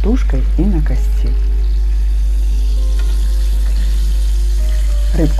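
A whole zander fried on the bone in oil gives a steady close sizzle, with brief voiced bursts at the start and end and faint kitchen clatter in between.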